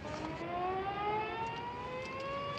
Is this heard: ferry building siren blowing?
yes